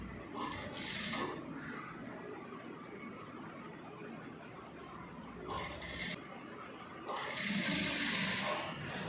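A sewing machine stitching a seam along a folded cloth edge in a tailoring class, running in a few short bursts of rapid whirring with quieter gaps and faint room noise between.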